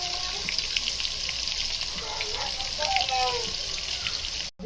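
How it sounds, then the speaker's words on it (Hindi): Onions frying in hot tempering oil for a cashew biryani, a steady close sizzle and crackle with a few stirring scrapes, running throughout and cutting off briefly at the end. "ये तड़कने लगेगा ना तो प्याज डालेंगे, और प्याज का कलर बदली होने तक पकाएंगे।"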